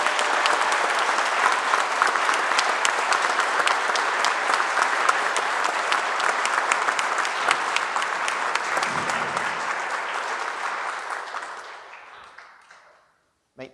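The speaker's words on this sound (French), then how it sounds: "On les applaudit," A church congregation, gathered for a bishop's visit, claps in a long, dense round of applause that holds steady and then tapers off to near silence at the end.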